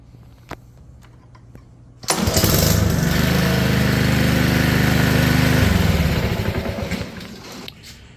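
A Badger 40V battery-powered electric lawn mower spins up abruptly and runs with a loud, steady motor-and-blade whir for several seconds, then winds down toward the end, with no talking.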